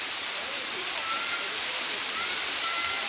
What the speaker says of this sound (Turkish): Evet, çok güzel bir şelale. Suyu da buz gibi.